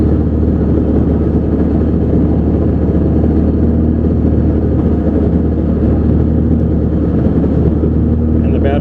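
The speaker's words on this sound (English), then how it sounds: "Release the starter button and you can hear the aircraft has started." Mini-500 helicopter engine idling steadily just after starting, a loud continuous low drone with a constant hum and no breaks throughout.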